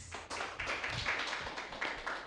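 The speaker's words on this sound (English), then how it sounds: "let's welcome participant number 2 with a big applause" An audience claps for the next participant in an English speech competition, a steady patter of hands filling the room at moderate loudness with no voices over it.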